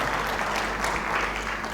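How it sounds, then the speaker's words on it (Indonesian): An indoor audience claps steadily at a talk on innovation, a dense, even burst of applause that fills the whole moment at moderate loudness. "beri tepuk tangan pada mereka semua lagi ya, untuk Bapak Yahweh tentunya."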